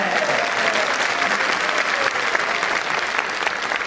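Sustained applause from a large audience at a Jain religious discourse by Acharya Vidyasagar, a dense, even wash of many hands clapping at steady loudness throughout, with no talk above it.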